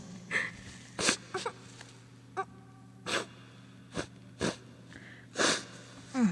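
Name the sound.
blowing nose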